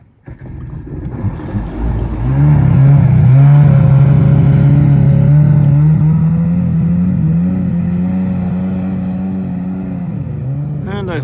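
An old boat engine cranks and catches, then settles into a loud, steady, slightly rough idle on the water with a continuous low drone.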